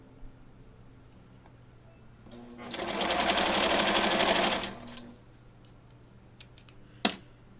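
A sewing machine stitches quilt block pieces in one rapid, whirring burst of about two seconds, close and fairly loud, with quiet handling clicks before and after.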